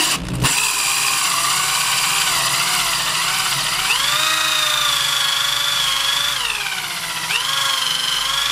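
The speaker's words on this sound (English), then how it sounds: "And I got some sections of pine ready to drill." A loud power drill whines steadily as it cuts plugs from pine held in a vise, its pitch rising and dipping with the load, with no talking.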